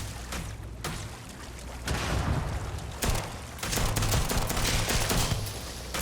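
Gunfire in Starfield crackles in rapid bursts of sharp shots over a dense, noisy battle backdrop. The firing stays loud and close, with short lulls between volleys.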